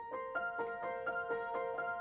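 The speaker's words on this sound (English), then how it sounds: "I'll show you how I process the live piano and the other pianos too." Live piano recorded with all processing plugins switched off, heard as a brief, fairly quiet run of repeated bright notes in a steady rhythm, played alone without voices.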